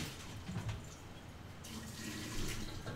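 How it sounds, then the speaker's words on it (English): Water pours out of a pot of boiled potatoes in a steady, close splashing stream that swells slightly toward the end. "There's way too much water in my potatoes. So I had to pour some water out."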